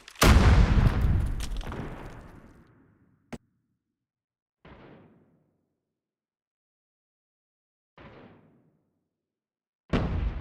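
A grenade explodes in the video game Call of Duty with a loud, booming blast and long fading tail, followed by a sharp crack and three spaced bursts of gunfire.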